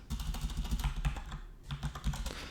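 Quick, uneven keystrokes rattle on a computer keyboard while renaming items in Grasshopper modeling software, a close continuous patter of clicks with a short pause partway through and no speech.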